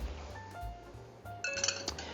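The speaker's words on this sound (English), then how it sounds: "I like to serve mine on with ice in the glass." A clear ice cube clinking into a cocktail glass for an Old Fashioned, several bright glassy taps close by, the sharpest near the end, with no talking.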